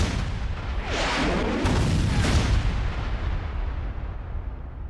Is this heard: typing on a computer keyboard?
no